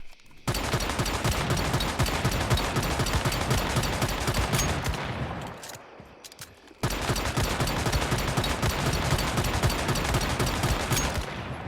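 Rapid, sustained automatic fire from the JAWS gun in Once Human during a damage test: a dense, loud barrage that pauses briefly midway, then resumes at full intensity.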